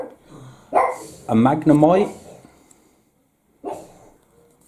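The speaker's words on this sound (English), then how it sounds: "Sorry about the barking" A dog barks several times nearby, short sharp yaps mixed with a person speaking, then a pause and one more bark.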